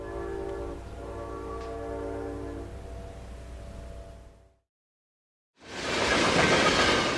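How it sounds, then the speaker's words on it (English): A Northstar commuter train rolls past with a steady rumble and a sustained horn-like tone, then breaks off into brief silence before a loud burst of broadband rushing noise. "we will follow the Northstar on a typical journey from Big Lake to Minneapolis and return"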